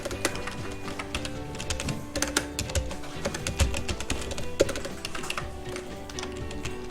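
Rapid keystrokes on a computer keyboard while entering an AutoCAD command, a quick irregular run of light clicks followed by a few sharper taps, close and fairly quiet, with no talking.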